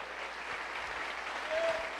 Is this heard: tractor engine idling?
no